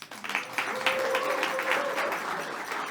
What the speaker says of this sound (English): please cheer for Maggie Jones